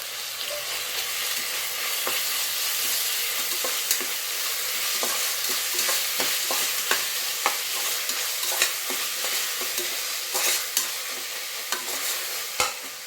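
Onion and tomato frying in oil in a pan while being stirred, a steady sizzle with scattered clicks and scrapes of the spoon throughout, close and alone with no talking.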